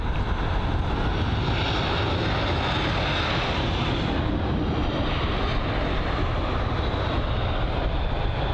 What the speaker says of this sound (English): The Lufthansa A320neo. Get to see that nice and close as it taxis back